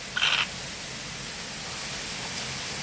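Heavy monsoon rain pours steadily in a Gujarat village, a dense, even hiss that fills the whole stretch, with a brief brighter burst near the start.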